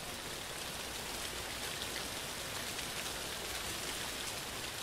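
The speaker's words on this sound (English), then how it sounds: "why did the rain just get much louder?" Steady rain pours in a horror video game, a dense, even hiss of falling water with no break or talk, moderately loud and constant throughout.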